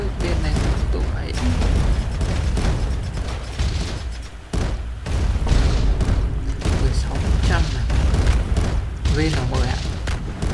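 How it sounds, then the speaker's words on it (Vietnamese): Cannon fire in the Roblox game Pirate Clash, repeated booming blasts and bursts across a dense, loud battle mix, with a voice talking over the action throughout. "Người ta dùng súng nhỏ cơ, mình cứ thích dùng đại bác làm việc nhau."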